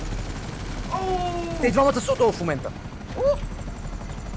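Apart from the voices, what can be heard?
helicopter in a video game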